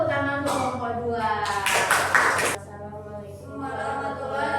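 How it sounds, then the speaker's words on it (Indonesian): A short burst of classroom applause for a student group, brief clapping rising over a teacher's voice and then fading as she keeps talking. "Sudah tepuk tangan untuk kelompok 2"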